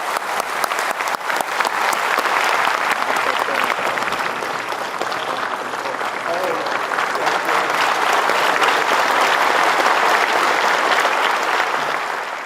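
A hall audience applauds after a poetry recitation, a loud, sustained burst of many hands clapping that holds steady throughout.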